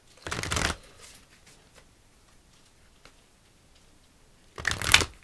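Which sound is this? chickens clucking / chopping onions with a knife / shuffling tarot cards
shuffling tarot cards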